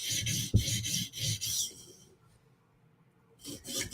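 A blade is sharpened by rough rasping strokes to raise a burr, about half a dozen rhythmic scraping passes close up, then a brief quiet pause before the strokes resume.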